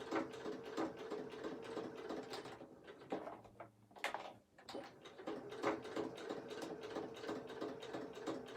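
Sewing machine with a 1/4 inch quilting foot stitching a quilt, a quiet mechanical whirring and clattering in rapid bursts with one brief pause partway through.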